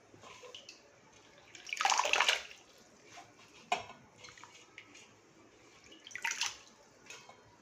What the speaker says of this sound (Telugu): గోంగూర శుభ్రంగా కడిగాలి